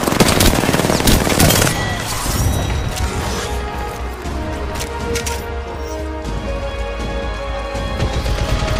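Automatic weapon fire in the battle royale game Apex Legends, dense bursts of gunshots and crashing impacts that are loudest at the start and then settle into a steady, busy clatter.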